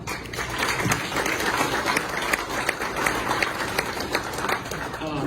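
Applause breaks out among supporters at a state senate campaign event, many hands clapping in a busy, moderately loud patter with some voices and cheers mixed underneath.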